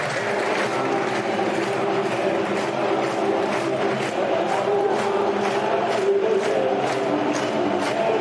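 A sizeable football stadium crowd at Millwall versus Sheffield United roars steadily as the two teams walk out. The broad wash of voices is punctuated by rhythmic clapping or chant pulses throughout.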